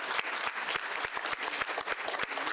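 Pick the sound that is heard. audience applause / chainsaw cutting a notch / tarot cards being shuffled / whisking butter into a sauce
audience applause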